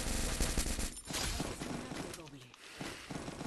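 Rapid automatic gunfire rattles loudly and continuously in a video game shooter, with dense overlapping bursts and a voice faintly underneath.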